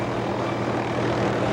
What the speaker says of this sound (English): As rescue pilot Larry Hallis maneuvers closer to the buried car